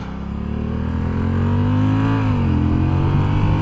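A 2023 Honda Rebel 1100T DCT motorcycle engine revs up steadily and loudly, its pitch climbing then dipping slightly as the throttle is held, close by.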